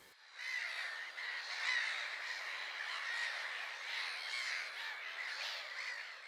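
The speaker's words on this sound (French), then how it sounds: "On peut observer des milliers d'oiseaux marins qui glissent dans l'air" Seabirds squawk in a dense, continuous colony chorus along the coast of British Columbia, with mountains behind, the overlapping calls faint and distant and no voices.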